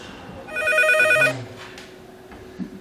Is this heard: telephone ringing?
yes